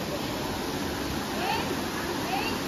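Water rushes and flows near a pilgrimage route at Katra, a steady broadband roar that runs unbroken throughout, with faint birdlike chirps above it.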